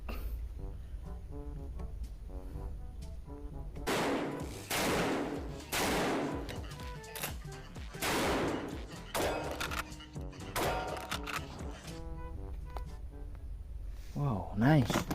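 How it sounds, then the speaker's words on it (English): A plastic toy gun fires in a series of quick clattering bursts, close and fairly loud, with pauses between them and a voice heard talking in between. "If I shoot."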